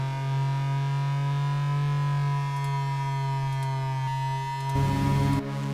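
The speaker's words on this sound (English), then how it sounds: "Korg Monologue." Korg Monologue analogue synthesizer drone: a loud, steady low tone with a stack of sustained harmonics, holding for several seconds before a brief burst of noisy grit near the end.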